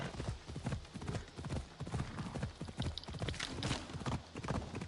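A horse gallops in Assassin's Creed Odyssey, rapid rhythmic hoofbeats pounding steadily and close throughout, with a faint whinny-like tone and no clear speech.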